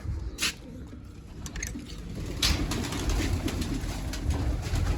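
Pigeons in a loft with lit bulbs coo softly at close range, low and continuous over a steady background hum, with a few brief bird calls cutting through.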